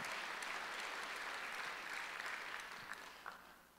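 A church congregation applauds during a Sunday worship service, a steady sustained wash of clapping that fills the room and slowly fades toward the end.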